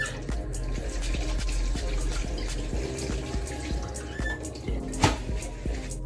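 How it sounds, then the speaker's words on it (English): A kitchen tap runs steadily while hands are washed under it, a close, continuous splashing flow with small drips and clinks. "So I'm gonna go wash my hands"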